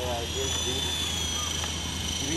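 A steady mechanical drone of a helicopter engine runs throughout, with people talking over it.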